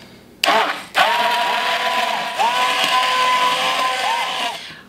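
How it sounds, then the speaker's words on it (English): A handheld immersion blender purees carrot soup in a pot, its motor whirring up loudly after a couple of short starts and then running steadily at close range, with pitch wavering as it works through the mixture. "I'm going to be using my handheld blender"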